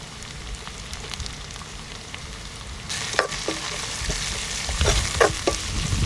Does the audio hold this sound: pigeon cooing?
no